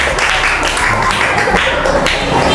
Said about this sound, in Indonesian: Kasih tepuk tangan yang kenceng.